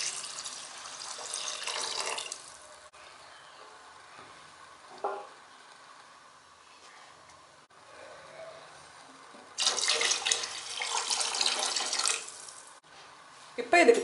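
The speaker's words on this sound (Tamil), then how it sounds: "3 டம்ளர் அளவு தேங்காய் பாலும் 3 டம்ளர் அளவு தண்ணியும் சேர்த்துக்கிறேன்." Coconut milk and water pour into a cooking pot for vegetable pulao, heard as two splashing streams, one at the start and one later, each lasting a few seconds, with quieter stretches between them.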